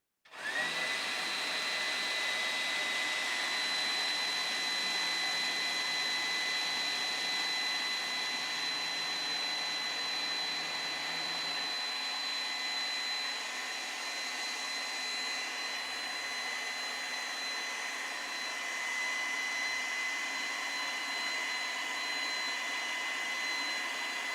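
An electric air blower inflates soft triangle-shaped children's gym equipment, running as a steady loud whooshing roar with a faint whine the whole time, close and continuous, no one speaking.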